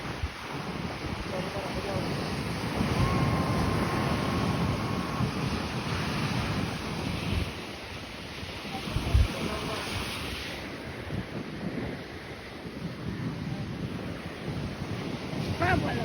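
Sea waves at Madhavpur beach wash in continuously with steady surf noise, buffeted by wind against the microphone, and a few brief voices sound faintly in the background.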